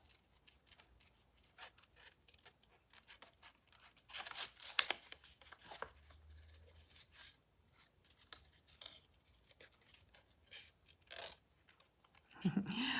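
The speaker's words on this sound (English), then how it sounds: "I'm going to cut this one out" Scissors cut designer series paper printed with a big pattern, a series of quiet close snips and crisp slicing strokes with soft paper rustles between them, irregular and brisk.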